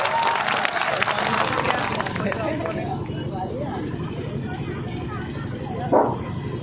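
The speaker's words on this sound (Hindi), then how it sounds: "एक बार जोरदार तालियों से गड़गड़ हो जाए।" An audience at a live stage event breaks into loud, dense applause that rolls on for a couple of seconds and then thins out, with an announcer's amplified voice talking through it.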